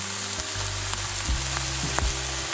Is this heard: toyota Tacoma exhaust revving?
no